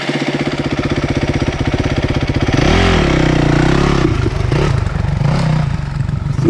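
A Honda CRF 250x dirt bike labors up a loose, zero-traction hill, its engine droning loud and close with a rising pitch sweep midway and clattering revs as it fights for grip.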